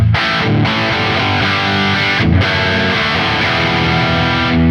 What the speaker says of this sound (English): the reverb is a nice room